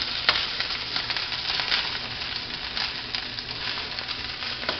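Cabbage sizzling and stir-frying in a hot pan, a steady crackling hiss with scattered pops and stirring scrapes, close and continuous.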